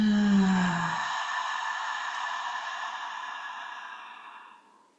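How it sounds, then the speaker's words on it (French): One long, slow exhale through the mouth during a guided breathing exercise, a soft breathy rush that starts after a brief tone and fades gradually over several seconds, heard close up. "expire avec la bouche. De nouveau, inspire. Et expire."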